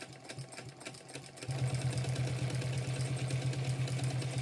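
A home sewing machine stitches a bum bag strap, starting with a few light handling noises before the motor kicks in loud and close with a steady fast hum and needle chatter.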